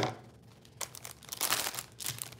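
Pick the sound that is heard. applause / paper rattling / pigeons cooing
paper rattling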